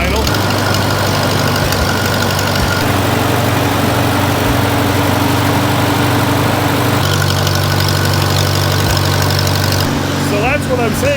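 A Lincoln welder's engine runs at high idle after sitting unused for about a week. It gives a steady, loud, even drone with a constant low rumble throughout.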